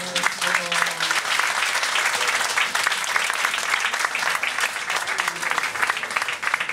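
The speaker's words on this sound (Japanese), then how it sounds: "拍手お願いします" An audience at the end of a live winter guitar concert in Tokyo breaks into sustained applause, loud and steady throughout, with a few voices faintly mixed in at the start.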